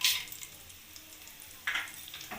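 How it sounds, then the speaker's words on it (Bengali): Whole spices for tempering crackle in hot oil left in a kadai after frying cauliflower for a vegetarian curd cauliflower dish. A sharp sizzle bursts at the start, dies to a low hiss, then flares again, with no talk. "ফুলকপি ভাজার তেলের মধ্যেই আমি ফোড়ন দিয়ে দেবো।"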